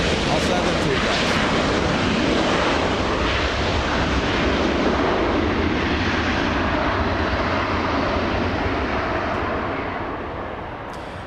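Airplane near an airport during live plane spotting, a loud continuous engine roar filling the whole stretch and slowly fading toward the end, with wind buffeting the microphone.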